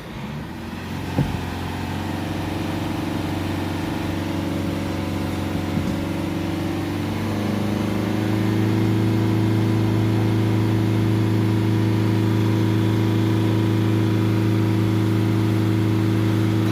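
A Mercedes E Class 2.1 engine with a differential pressure sensor fault idles, then the revs climb and are held at a steady, higher drone, loud and close with no voices.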